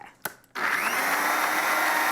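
A kitchen blender starts up after a couple of brief knocks and then whirs loudly and steadily, blending pesto with oil in a close, continuous motor roar.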